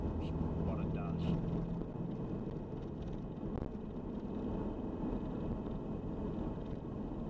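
A Nissan ZD30DI diesel engine pulls through a slow acceleration in fourth gear, a continuous low rumbling drone with in-cabin road noise; a faint whine sits above the engine.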